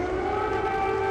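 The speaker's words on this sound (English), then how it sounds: "the two world leaders talked while walking outside, air raid sirens ringing out." Air raid sirens sound across wartime Kyiv in the open air, a steady, sustained wail that holds without a break and carries no talk.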